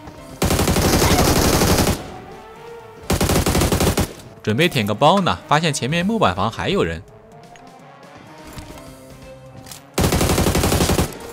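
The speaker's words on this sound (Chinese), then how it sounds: "可以听到枪声啊" Bursts of automatic weapon fire from the mobile shooter Game for Peace hit hard and close in two long volleys, then return at the end, with someone narrating between them.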